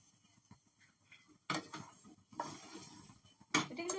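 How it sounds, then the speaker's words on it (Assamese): Dry fruits are stirred in a frying pan, giving faint, sporadic scraping and light metallic clinks with a few sharper knocks, quiet and close, with no talking. "এইখিনি এনেকৈ লৰাই থাকিব লাগিব। খুব ঘন ঘনকৈ লৰাব লাগিব"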